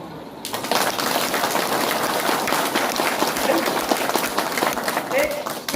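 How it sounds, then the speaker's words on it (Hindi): A town hall crowd in Banka, Bihar claps loudly and continuously during a speech, a dense rapid patter of many hands, with a voice or two mixed in underneath. "तो लोग जोर से ताली बजाते हैं।"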